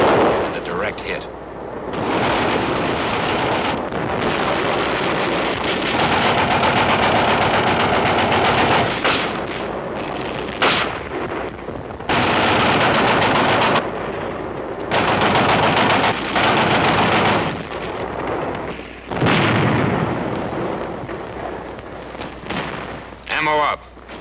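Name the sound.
75 recoilless rifle firing, Korean War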